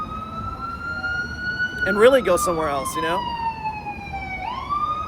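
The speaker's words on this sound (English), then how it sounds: "Another one of the New Orleans sounds of the city. A lot of sirens." An emergency vehicle siren wails through New Orleans streets, a steady tone that slowly falls in pitch and then begins to rise again, with someone talking briefly over it.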